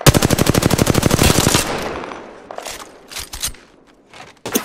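Rapid automatic gunfire in the shooter game Apex Legends, a dense loud burst of shots for about a second and a half, then scattered quieter shots, clicks and movement sounds.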